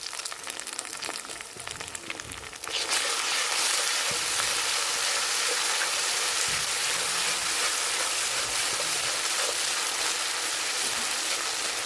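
Onions fry in a pan with garlic, ginger and cumin pastes for a rohu fish biryani, a quieter sizzle that jumps to a loud steady hissing crackle after a few seconds and holds to the end.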